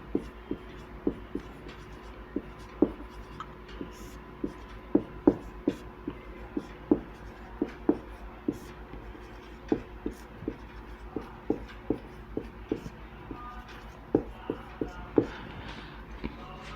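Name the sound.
teacher writing on a board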